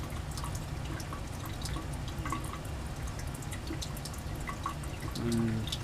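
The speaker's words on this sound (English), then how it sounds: "drip, drip, drip. Yeah, it seems like that's about 1 drop per second." Ketone solution drips into a refluxing Grignard reaction flask at roughly one drop per second, the faint, soft drops barely rising above a steady low background hum.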